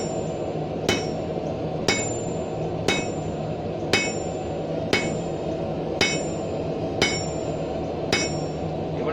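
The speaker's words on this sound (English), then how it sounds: "Half face blows." A hammer delivers half-face blows to hot steel, drawing a blunt taper on a leaf-end hook at a backyard forge: eight sharp, ringing strikes about a second apart, loud and close, with no talk.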